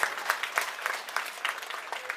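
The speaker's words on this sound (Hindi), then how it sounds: "कार्यकर्ताओं के लिए जोरदार तालियां आप लोग बजा दें" Crowd applause for party workers at an Aam Aadmi Party political rally in Mustafabad, Delhi, a steady run of many hands clapping at moderate distance, fairly faint and without talk.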